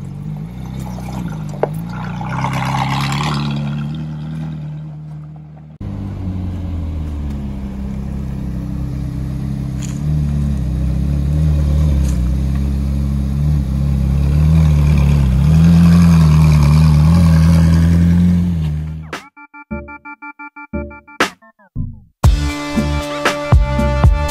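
A manual-swapped Ferrari pulls away with a steady, loud engine drone that builds as it drives off, then cuts to a few louder sharp bursts near the end.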